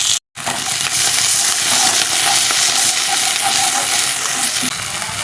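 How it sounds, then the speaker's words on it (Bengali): Ginger and garlic paste frying in a pan for a katla fish rezala, a loud, close, continuous sizzle with stirring throughout after a brief gap at the start. "দিয়ে দিলাম আদা বাটা, দেব রসুন বাটা, দিয়ে ভালো করে মশলাটা কষিয়ে নেব।"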